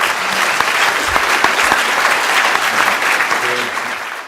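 Lecture-hall audience applauding steadily to welcome a professor before his talk, a dense, even wash of clapping from many hands, close and sustained throughout with a faint voice underneath.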